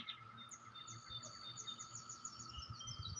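Birds in a yard chirp and tweet in quick, repeated high calls over a faint steady insect hum, fairly distant and soft, with no one talking.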